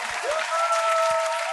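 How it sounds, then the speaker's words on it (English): Brief burst of audience applause for Donna Lewis at a live comedy show, dense clapping with a sustained cheer or whistle running through it. "Give a big round of applause at home for Donna Lewis"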